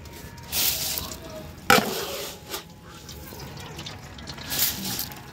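Soaked rice is scooped out of its soaking water for a large 30 kg chicken biryani batch, giving splashing, sloshing and dripping in bursts. One sharp scoop stands out, and faint background voices can be heard.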